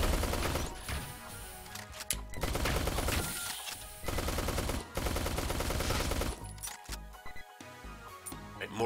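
Rapid bursts of laser weapon fire in the top-down shooter Neon Chrome, dense crackling volleys broken by brief pauses, loud and close with little else underneath.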